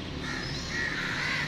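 Crows near an old British- and Sikh-era college building caw in a dense, overlapping chorus, steady and moderately close, with no talk.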